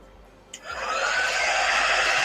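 A hair dryer switches on with a click and settles into a steady, loud airy whoosh, drying chalk paste on a 9x12 pallet sign. It plays alone, with no talking.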